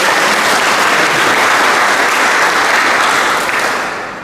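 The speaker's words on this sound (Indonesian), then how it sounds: "tepuk tangan dulu buat" Audience applause fills the room at a book launch during a university student organisation's anniversary event in NTT, Indonesia: sustained dense clapping from a large crowd, loud and steady before tapering slightly at the end, with no talk over it.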